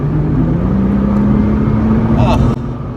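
A Nissan GT-R accelerates hard on a road, heard from inside the cabin as a loud, steadily rising engine drone that cuts back abruptly near the end.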